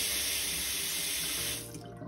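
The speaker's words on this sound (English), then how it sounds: "as a quick demonstration of the water pressure, you can also tell from the sink, so I'll turn this on real quick" A hotel bathroom sink faucet on the 24th floor runs at strong pressure, a loud close hiss of water that drops off sharply as it is shut near the end.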